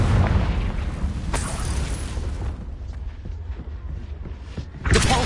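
An explosive Confringo spell blast from Hogwarts Legacy, a loud booming burst up front that rumbles and fades, with smaller thuds after and a second sharp burst near the end.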